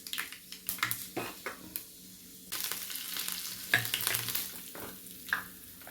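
Mustard and fenugreek seeds sputter and sizzle in hot oil for mango pickle, with crackling pops and a spoon scraping and stirring the pan close up, and no talking.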